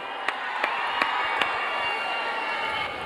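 A crowd applauds at the Idli Kadai film trailer launch event, a steady wash of clapping and cheering heard from across a large hall, with a few louder claps standing out early on and no one speaking.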